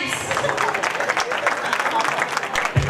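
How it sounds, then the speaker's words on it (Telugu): Applause from the audience at an alumni reunion of a 2005–06 SSC high school batch, steady dense clapping filling the room throughout, with a brief low thump near the end. "క్లాప్స్."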